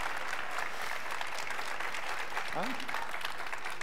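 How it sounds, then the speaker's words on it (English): Steady applause from a live press-conference audience fills the clip, a dense continuous clatter of clapping with no pauses, moderately loud throughout. "I don't know why you're clapping."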